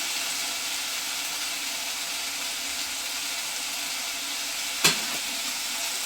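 Onions and a little tamarind sauté in a pan for onion chutney, a soft, steady sizzle throughout with one sharp clink near the end, close and without any talk.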